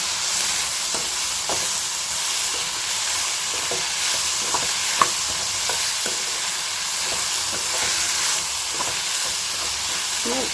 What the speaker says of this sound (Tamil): இதையும் சேர்த்து வெங்காயத்தோடு நல்லா வதக்கி வச்சுக்கணும்